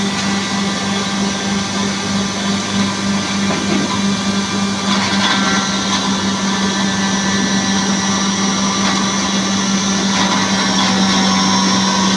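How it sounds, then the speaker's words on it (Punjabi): An electric stone mill grinds flaxseed, fennel and ajwain, giving a loud, steady, unbroken whirring drone with a constant hum throughout and no talking. "ਸਾਡੀ ਸੌਂਫ ਜਵੈਣ ਵਿੱਚ ਅਲਸੀ ਤੇ ਆਪਾਂ ਪੀਸਣ ਲੱਗਾ ਜੀ ਆਪਣੀ ਚੱਕੀ ਦੇ ਵਿੱਚ"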